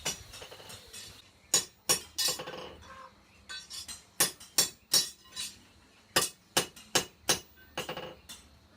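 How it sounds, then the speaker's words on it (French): Hammer blows on an anvil at an artisanal knife-making forge in a northern Vietnam village, ringing metallic strikes in irregular clusters, some single and some in quick runs of three or four, clear and fairly close. "on peut entendre résonner le bruit du marteau qui frappe contre l'enclume"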